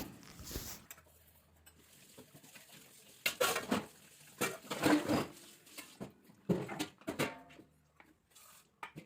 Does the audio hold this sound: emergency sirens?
no